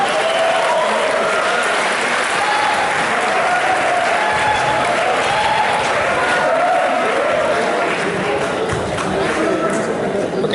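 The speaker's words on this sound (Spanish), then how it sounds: "Así que recibimos con un fuerte aplauso al maestro Enrique Aguilar" A packed audience welcomes a speaker to a talk on mobile app development with loud, sustained applause that stays steady throughout, with crowd chatter mixed in.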